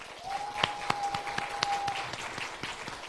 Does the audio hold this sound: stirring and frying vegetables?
no